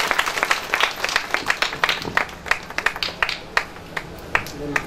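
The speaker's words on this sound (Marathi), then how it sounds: "टाळ्या वाजवा, टाळ्याला." An audience at a village honouring ceremony claps steadily, many hands making dense, uneven claps that fade slightly toward the end.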